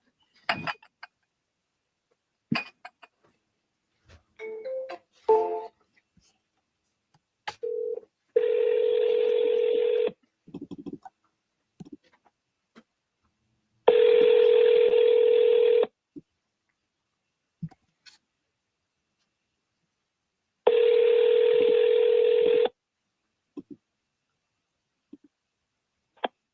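Touch-tone telephone dialing during a phone call: a scatter of short key beeps and clicks, then three long, even tones separated by silence, heard near and alone.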